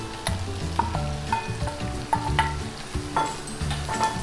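Garlic and onion sizzle in a hot pan for a vegetable pot pie, a close, steady frying hiss with frequent light clinks and scrapes from stirring.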